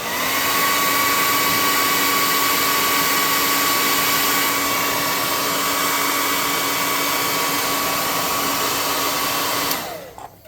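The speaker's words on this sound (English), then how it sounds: "let's hot air gun this dude" A hot air gun blows steadily for about ten seconds, drying a freshly painted miniature creature figure for a tabletop roleplaying game, with a loud constant whine that cuts off abruptly at the end.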